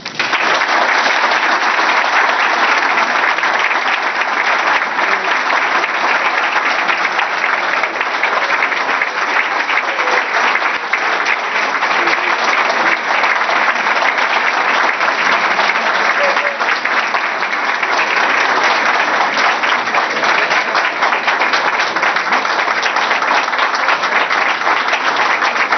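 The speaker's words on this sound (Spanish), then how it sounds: "lluevan sobre él los aplausos que merece, bullangueros y profundos." A book presentation audience breaks into loud, sustained applause, with dense clapping from many hands going on without pause for nearly half a minute.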